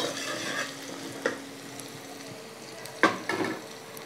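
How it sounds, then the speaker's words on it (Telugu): Onion and tomato frying in a pan, a quiet low sizzle with a few sharp clinks of a spoon against the pan, close and without speech. "టమాటా కూడా వేగే వరకు వేయించుకోవాలి"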